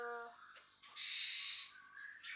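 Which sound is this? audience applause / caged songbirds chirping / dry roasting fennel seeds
caged songbirds chirping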